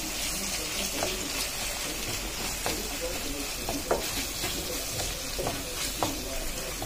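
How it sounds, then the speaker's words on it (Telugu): Onion with ginger-garlic paste frying in hot oil for a mixed vegetable kurma, a steady close sizzle with occasional stirring scrapes and soft clicks of the spoon against the pan. "ఆనియన్ కూడా కొంచెం కలర్ మారినంత వరకు ఫ్రై చేసుకోవాలి"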